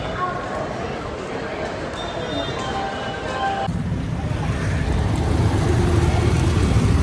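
An auto-rickshaw rattles along from a railway station with a steady engine drone, road rumble and wind buffeting. The noise swells louder toward the end while people talk over it.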